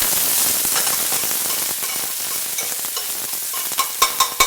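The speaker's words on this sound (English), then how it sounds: "So I'm going to saute these." Garlic and onions sauté in a pan for a vegan Salisbury burger, a loud close sizzle with crackling spatter and a few sharp stirring knocks toward the end, no talking.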